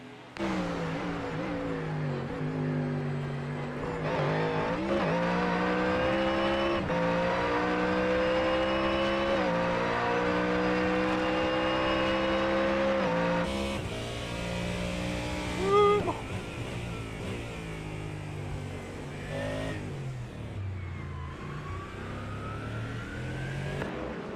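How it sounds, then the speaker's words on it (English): A GT3 Mustang race car in a sim racing game at Circuit de Villeneuve roars steadily at high revs, its pitch climbing through gears with brief shift dips, loud and continuous with no talk. "I love how the GT3 Mustang sounds there, says Daniel."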